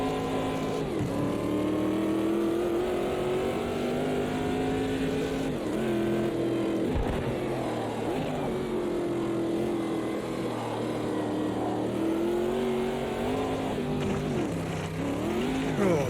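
A classic Corvette C3 GT racing at Bathurst in Automobilista 2 gives a steady, loud, droning V8 roar that rises and falls through gear shifts and revs, continuous throughout with no talk over it.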